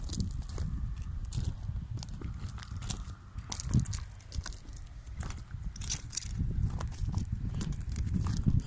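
A young female donkey of about three years walks along, her hooves clip-clopping in an irregular, moderately close rhythm over faint outdoor background noise.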